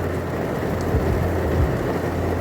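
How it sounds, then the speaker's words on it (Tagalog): Heavy rain pouring down over a mall parking lot during a storm, a loud dense steady hiss with a low rumble underneath, heard from inside a waiting car. "Ayan na, napakalakas ang ulan."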